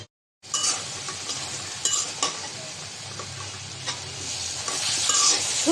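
Dried fish curry with garlic paste sautéing in a pan, a loud continuous sizzle that starts after a short silence, with occasional clicks and scrapes of stirring.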